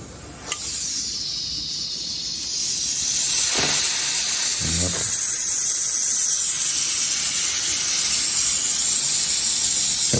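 An industrial steam iron with a saline-bottle style water reservoir, model KJL, hisses as it releases steam, starting softer and swelling into a loud, steady, close jet that runs continuously with brief clicks partway through.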